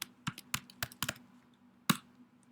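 Typing on a computer keyboard, a short burst of crisp close keystrokes followed by a pause and one last firm key press.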